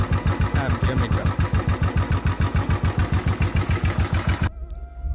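A Royal Enfield Bullet 500 engine with an idling problem runs at a steady idle, a close, loud, rhythmic thumping of regular even beats that drops away abruptly near the end.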